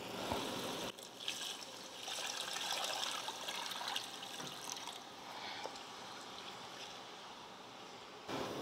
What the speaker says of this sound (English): I'll be adding 6 cups of water.